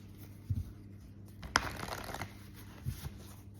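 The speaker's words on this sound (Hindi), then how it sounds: "I will take one card from Moonology for you." Moonology oracle cards are shuffled to draw one, with a single quick rustling burst of riffled cards near the middle, a few soft taps before and after, over a low steady hum.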